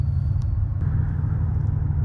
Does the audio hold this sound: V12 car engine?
yes